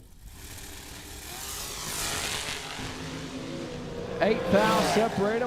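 Dragster race cars in a paired drag strip run, a low engine drone building steadily under a track announcer's voice, with a sharper, louder surge of revving near the end.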